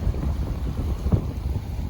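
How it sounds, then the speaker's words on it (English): Wind gusting across an open hiking trail in Iceland on a chilly evening, a steady low rumbling buffet against the microphone with one brief stronger gust, no voices. "Getting pretty windy and chilly again,"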